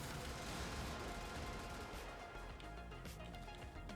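Rapid 8mm gunfire in the Brigador video game, a dense, continuous barrage of shots and crashing impacts that fills the whole stretch at steady loudness, with no talking.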